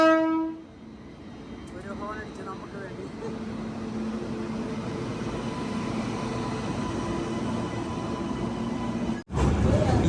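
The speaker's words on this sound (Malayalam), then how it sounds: "ഈ ട്രെയിൻ പോകുന്നത് മുംബൈയിൽ നിന്ന് വാരണാസിയിലേക്കാണ്. മഹാനഗരി എക്സ്പ്രസ്." The Mahanagari Express, running from Mumbai to Varanasi near Jabalpur, sounds a brief horn blast, then thunders past with a long, loud, steady rumble of wheels and carriages that cuts off abruptly.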